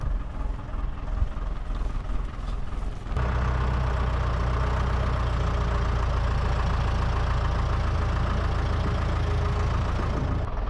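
Farm tractor engine idling close by, a steady low rumble with a knocking pulse that jumps louder partway through and then holds even, with no talk.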